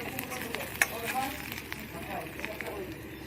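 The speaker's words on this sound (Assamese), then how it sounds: "আদা নহৰু পেষ্ট দিয়াৰ পিছত অকমান ভাজি লম" Ginger garlic paste and onions fry in a pan for banana flower bhaji, giving a low, soft sizzle and scattered crackles beneath a person talking.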